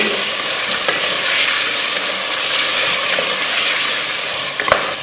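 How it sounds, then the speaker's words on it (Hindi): Half a kilo of goat meat fries in ginger-garlic paste in a pan for aloo gosht, a steady close sizzle with occasional stirring clatters and faint pops, no voices. "हमारा अदरक लहसुन हो गया, इसमें गोश्त डाल देंगे। हमने आधा किलो गोश्त लिया है, तो अच्छी तरह भूनेंगे।"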